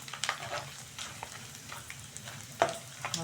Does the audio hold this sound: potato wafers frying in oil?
yes